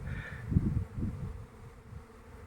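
Honey bees hum near a flowering rapeseed field on a windy day, a low close buzz swelling in the first second and then fading to a soft drone, with no voices.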